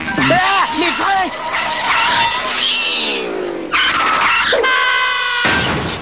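Car brakes screech and tires skid in long, loud squeals in a 1995 film scene, preceded by a brief voice.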